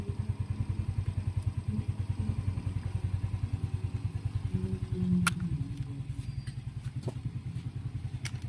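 A Yamaha Mio i 125 scooter engine idles close by with a fast, even putter that swells briefly midway, over faint clicks and clatter, with no talk.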